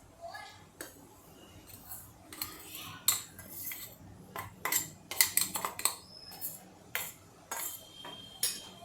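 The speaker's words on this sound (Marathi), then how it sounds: "आता हे सगळं सरबत प्रेमिक्स मी काढून घेते याच्यामध्ये।" A spoon scrapes and clinks against a metal container as fennel sharbat premix with ground rock sugar is scooped out, irregular close taps and scrapes, with a voice talking over them.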